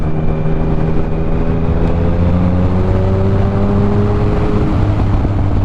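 A Triumph Speed Triple 1050 motorcycle engine runs steadily and loud, with a droning harmonic tone that rises slightly and then settles, as if cruising or revving gently on the road, with no talk.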